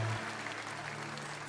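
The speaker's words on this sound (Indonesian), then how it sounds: "Tepuk tangan sekali lagi bagi Tuhan" A church congregation claps together in sustained, dense applause filling a worship hall, steady and fairly loud throughout with a low hum beneath, ending on a brief sharper burst.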